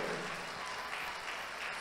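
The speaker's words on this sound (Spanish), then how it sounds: "Dele fuerte ese aplauso al Dios del cielo." Congregation applause during a church sermon, a steady, even wash of clapping throughout, moderately quiet and without speech.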